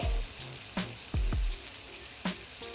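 Homemade hair oil boils and froths in a pan, giving a close, steady sizzle broken by a handful of sharp pops and bubbling bursts. No one talks.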